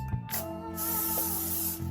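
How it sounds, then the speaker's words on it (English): A short burst of cooking spray hissing close by into a pan, lasting under a second, followed by a low steady hum. "You're gonna spray it like this."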